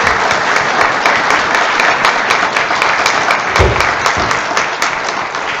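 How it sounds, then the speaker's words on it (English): An audience at a Northwest Territories Legislative Assembly presentation on the Indian Residential Schools Truth and Reconciliation Commission breaks into loud, sustained applause, dense clapping continuing steadily without talk. "I just ask you again to join me in applauding Dr. Wilson for her presentation."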